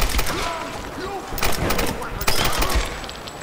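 Rapid gunfire in the 2013 Tomb Raider game bursts in loud volleys with heavy thuds, interleaved with a player talking over the action.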